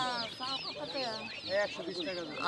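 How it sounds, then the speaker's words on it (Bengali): Baby chickens and ducklings for sale at the Nawabpur market, a dense chorus of close, high cheeping and peeping calls overlapping continuously, with a few harsher clucking notes mixed in. "এদিকে দেখা যাচ্ছে ছোট ছোট মুরগির বাচ্চা এবং হাঁসের বাচ্চা"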